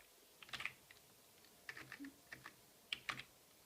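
Keys tapped on a computer keyboard while entering a command into a serial console for a Xiaomi Yi camera, coming in short bursts of quiet clicks with pauses between them.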